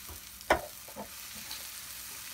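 Onions and green chillies sautéing in a pan for a Malabar fish curry, making a faint, steady sizzle with one sharp stir or scrape near the start and a few softer ones after.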